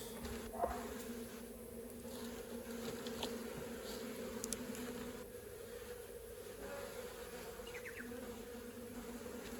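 Honey bees hum steadily inside a small winter mini nuc hive crowded with nurse bees, a continuous close buzzing drone with a few brief louder passes.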